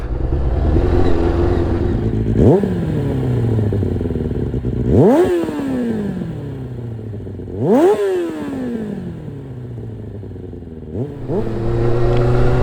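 A 2000 Kawasaki ZX6R Ninja fitted with a new Micron exhaust, heard while riding: a steady engine drone broken by four sharp revving surges as the rider opens the throttle, loud and close with wind noise and no talk.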